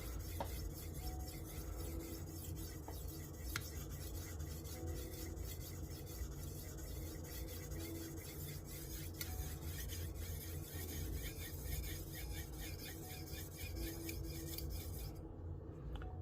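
A knife blade is drawn across a stone on a TS Prof Kadet Pro sharpener, making a quiet, continuous rasping scrape in steady repeated strokes with no voices.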